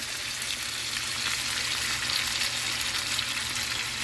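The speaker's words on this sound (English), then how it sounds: "Getting our compound butter in there." Garlic compound butter sizzles and crackles steadily in a hot pan, a dense close hiss that holds even throughout with no talking.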